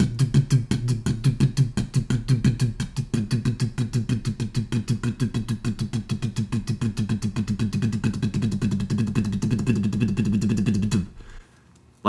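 Drum toms rolled in a steady triplet pattern, a fast even stream of dense close strokes that runs for about eleven seconds before stopping abruptly, with no talking.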